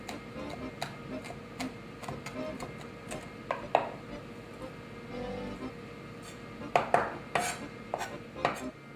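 Roasted garlic being roughly chopped on a cutting board with a knife: a steady run of light, fairly faint taps and clicks, a few sharper knocks among them, with no talking.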